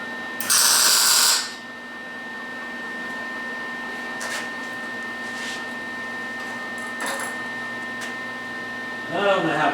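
A MIG welder tacks a steel gusset onto a CNC plasma table frame, one loud crackling buzz lasting about a second, then a low steady hum, with a second burst starting right at the end.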